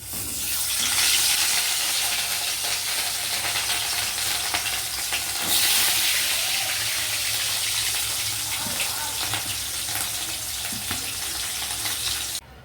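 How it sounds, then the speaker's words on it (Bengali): Katla fish pieces hit a hot wok and fry with a loud, dense, continuous sizzle and crackle that holds steady for the whole stretch, with no talking. "কড়াইটা গরম হয়ে গেছে এবার আমি মাছগুলোকে ছাড়ছি"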